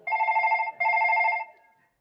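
An old black landline telephone bell rings twice in quick succession, a loud, close trill that fades out briefly after the second ring.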